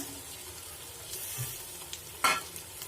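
Faint sizzling and stirring of chicken frying with onion and tomato in a pan, a low frying hiss with a brief louder scrape near the end, no voices.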